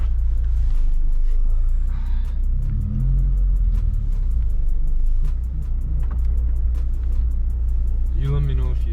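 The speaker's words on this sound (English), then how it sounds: "First drive on the K24 supercharged RSX." A supercharged K24-powered Acura RSX drives on the road, its engine a loud continuous low rumble heard from inside the cabin, with a brief voice near the end.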